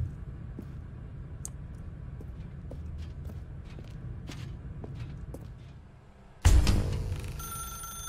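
In the video game The Stanley Parable, a telephone suddenly starts ringing with a bright, loud electronic trill after several seconds of quiet footsteps and soft clicks in a dark room.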